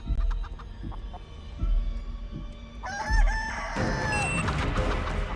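In a horror video game, a rooster crows, then a chicken clucks and squawks over a low background hum and music-like tones, loud and close.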